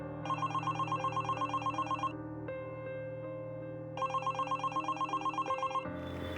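A telephone rings late at night in a quiet home, a bright repeating electronic ring in two bursts separated by a brief pause, moderately loud and alone.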